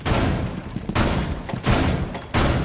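Rapid shotgun blasts in Rainbow Six Siege, fired up into a house ceiling: four loud, booming shots in quick succession, each with a broad crack and rumbling tail, no talking.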